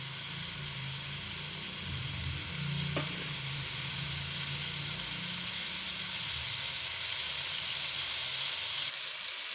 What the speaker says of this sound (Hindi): तो फ्राई कर रही हूँ।